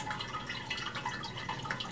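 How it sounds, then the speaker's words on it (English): Water trickling and dripping back down inside a cat drinking fountain with a foam pre-filter pad and a large lid, a faint, continuous close-up splashing and bubbling. "You hear the backfalling water now"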